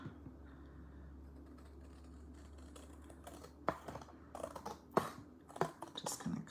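Long-handled scissors cut through card paper, starting quiet and close, then giving a few sharp snips in quick succession toward the end.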